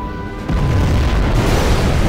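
Nuclear missile explosion in the Command & Conquer Generals Zero Hour video game: a loud, deep booming blast that hits suddenly and rumbles on heavily for about two seconds.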